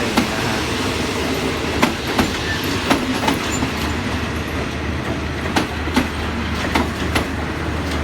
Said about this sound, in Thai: ก็ค่อยๆทำขบวนเข้านะครับ